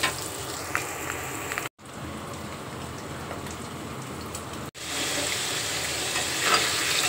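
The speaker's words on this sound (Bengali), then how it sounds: "এখন আমি ভেজে এটা ভুনা করে নিব।" Boiled eggs fry in a pan for egg bhuna with a dense, steady sizzle close by, broken by two brief cuts of silence, and no speech.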